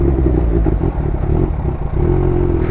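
A Kawasaki Ninja H2 motorcycle accelerates hard on the road, its engine roaring loud and close in a dense, sustained growl with rising pitch and mechanical clatter throughout.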